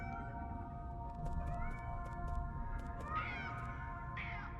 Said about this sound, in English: Why are there cats here?